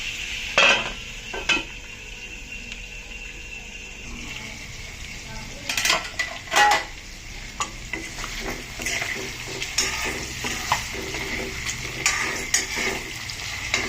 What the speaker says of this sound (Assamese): এতিয়া আমি ঢাকনা মাৰি অলপ থ'ম আৰু ল' ফ্লেমত অলপ দেৰি